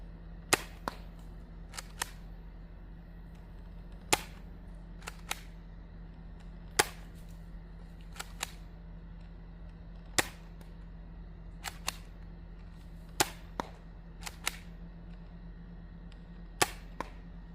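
An Adventure Force Brute Pro blaster fires Nerf Pro darts in a quiet room, sharp single snapping shots spaced a second or two apart, sometimes in quick pairs, over a steady low hum.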